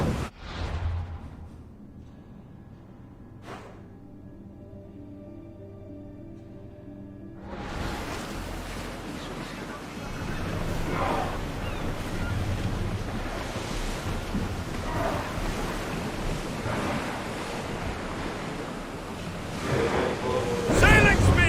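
Sailing ship at sea in Assassin's Creed Odyssey: after a quiet opening with a few faint tones, loud continuous waves, wind and hull wash rush in and hold steady to the end.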